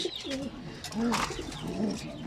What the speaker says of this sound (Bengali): আমার মাদি কবুতর ওরা সবাই খাবার খাওয়া শেষ